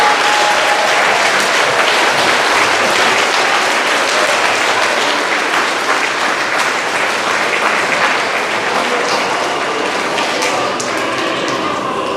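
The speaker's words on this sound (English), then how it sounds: "let's cheer for our Coast Guard from around the world" An elementary school Veterans Day crowd claps and cheers for the Coast Guard in a sustained, dense round of applause that holds steady for about twelve seconds, fading slightly toward the end.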